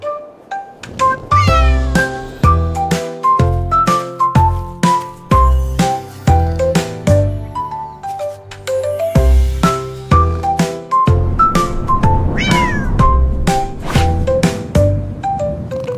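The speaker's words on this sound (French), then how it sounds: "Un chat royal de rêve au clair de lune." Repeated cat-like meows sound over a bouncy, rhythmic musical backing, the cries recurring in a steady pattern.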